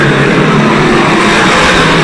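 Modified race cars thunder by at speed in a race, a thick wall of engine noise from the pack, loud and steady throughout.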